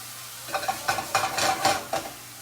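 A red ingredient sautéing for clams casino in a pan, with a soft sizzle broken by a series of quick, rhythmic scraping and stirring strokes, close and clear with no talking.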